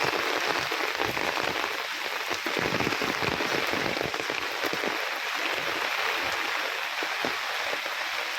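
Steady monsoon rain falls without letup in the Konkan countryside, a dense hiss of drops pattering on surfaces close by.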